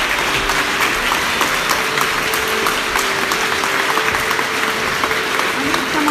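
Audience clapping steadily and densely for about six seconds, with faint voices and a whistle-like tone threaded through the sustained applause.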